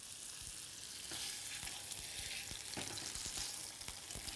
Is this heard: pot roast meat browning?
yes